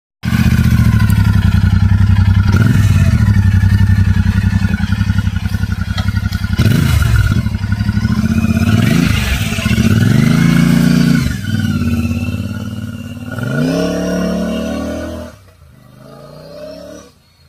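A Royal Enfield Super Meteor 650 motorcycle with its stock exhaust, recorded up close with a steady loud idle that rises into several throttle blips and revs, then settles lower and fades near the end.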